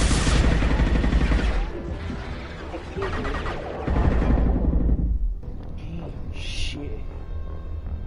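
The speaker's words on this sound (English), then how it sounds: "Taking fire" Bursts of gunfire in the Mass Effect 2 video game, loud dense volleys that ease off, swell again, then fall away into quieter combat noise with a brief high tone near the end.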